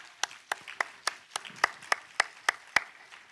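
Sparse, scattered claps from a small summit audience, roughly a dozen distinct hand claps in a loose, uneven rhythm, fairly close and not very loud, with no voices over them.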